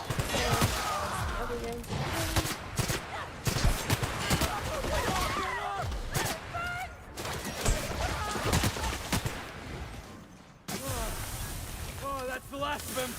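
Gunfire in The Outer Worlds: repeated sharp shots crackle in bursts over a busy outdoor ambience, with a voice talking in between and a short break near the end.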